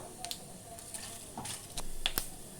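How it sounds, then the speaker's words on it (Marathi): Whole spices including bay leaf roast in a pan over a low flame, a quiet crackle with a few sharp pops and scrapes, soft and close, no voices. "लहान गॅसवर आपल्याला हे भाजायचे"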